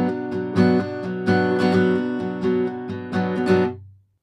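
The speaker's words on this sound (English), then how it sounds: "in the choruses, for the most part, you'll be doing open strumming" Open strumming on an acoustic guitar, full ringing chords struck in a steady rhythm with accented strokes, sustaining and then fading out at the end.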